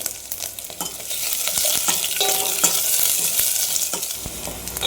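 Steady crackling sizzle of garlic and green chilies frying in hot oil, close and continuous, with occasional stirring clicks.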